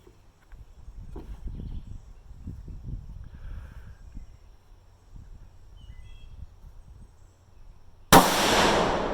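A single sharp rifle shot from a Ruger 6.5 Grendel firing Hornady 120 ELD handloads cracks out near the end, loud and close, after several seconds of faint low background rumble.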